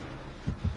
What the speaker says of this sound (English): Hear that heartbeat? That means I'm extremely close to the bad guy.